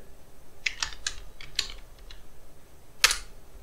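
Keystrokes tapped on a computer keyboard while a Linux command is entered, several quick clicks in an irregular burst, then a pause and a single louder key press near the end, close and fairly quiet.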